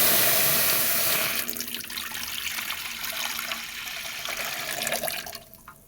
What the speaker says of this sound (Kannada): ಕಡಾಯಿಯಲ್ಲಿ ನಾನು 2 ಟಮ್ಲರಷ್ಟು ನೀರು ಸೇರಿಸ್ಕೊತೀನಿ